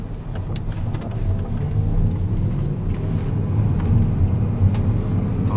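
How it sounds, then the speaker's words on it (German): A BMW Z3 3.0i coupe with the M54 engine drives along a road from inside the cabin, a steady low engine drone with tyre and road rumble and no talking. "Jetzt fahren wir wieder mal ein paar Meter mit dem 3 Liter Coupé."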